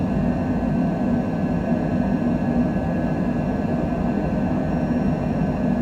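In a flight simulator game, an airliner climbs out after takeoff from Haneda at dawn, giving a steady, even engine drone that holds at a constant level throughout.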